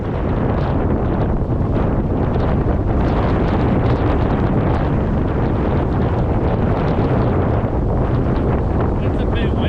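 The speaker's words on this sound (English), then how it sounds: "I'm sure you can still hear the wind ripping." Strong wind gusts on a lake boat batter the microphone with a continuous loud rumbling roar that surges and buffets throughout, with no clear speech.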